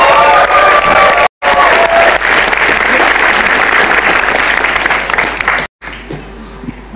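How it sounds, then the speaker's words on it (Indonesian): A live comedy audience breaks into loud, sustained applause and cheering for a stand-up comedian, a dense clapping roar with brief cuts in between. "Kalau begitu boleh tepuk tangan untuk Cah Lontong."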